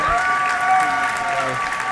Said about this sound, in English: You have so many people cheering for you.